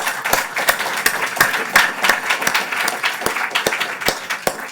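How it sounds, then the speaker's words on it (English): Audience at a zero emission bus workshop in London applauding the speakers, a dense burst of many hands clapping at close range, with no talk over it. "If you could just give the speakers a round of applause."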